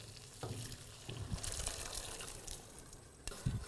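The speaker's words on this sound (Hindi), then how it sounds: "और छोला एंड पानी टुगेदर।" Chickpeas and water go into a cooking pot for a spiced chana masala. A soft, uneven splashing and sloshing of liquid comes and goes, with a sharper clatter near the end, fairly quiet and without voices.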